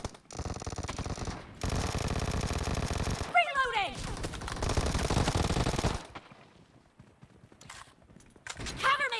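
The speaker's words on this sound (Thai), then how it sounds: "โอ้โหฝั่งนู้นยิงอ่ะ" Bursts of rapid automatic gunfire in PUBG Mobile arena mode, loud and dense, with a sweeping effect in between and quieter game sounds afterward.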